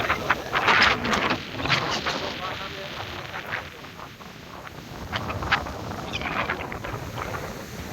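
Strong open-air wind after rain in Vav-Tharad district, buffeting the microphone with rough gusty rushes that swell and ease, fairly loud and continuous.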